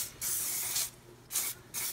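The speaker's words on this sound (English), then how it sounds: "so I'm going to spray this also." Nonstick cooking spray is sprayed onto paper in three bursts while preparing classic meatballs: a close, breathy hiss, a long spray followed by two shorter ones, with brief pauses between.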